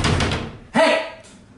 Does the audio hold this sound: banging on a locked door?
yes